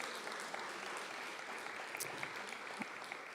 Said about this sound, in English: I think we need a round of applause for that.